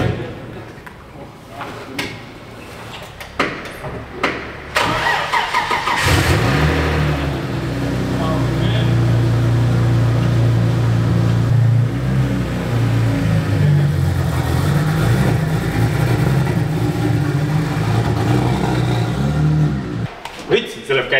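An old car engine cranks and catches, then idles and revs unevenly with loud rising and falling roars before cutting out; people talk over the starting attempts.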